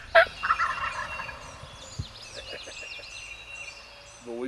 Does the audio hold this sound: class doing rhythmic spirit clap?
no